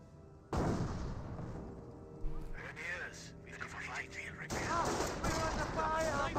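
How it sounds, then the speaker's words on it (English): A World War II strategy battle in Company of Heroes with a sniper firing on Volksgrenadier infantry: dense, continuous gunfire and battle noise fill the clip, with a voice talking over it. "There goes a sniper and does get a hit there onto the Volks Grenadiers"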